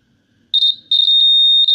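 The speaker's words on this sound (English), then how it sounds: "this is actual sound that a piezo buzzer makes in the hearable range" A shrill, piercing electronic piezo buzzer tone from a mosquito repellent circuit sounds briefly, cuts out, then returns and holds steady, loud and close.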